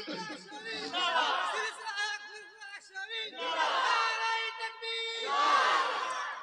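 A large crowd at a religious gathering shouts the takbir together in loud, forceful waves, with several surges of massed voices and a short lull between them.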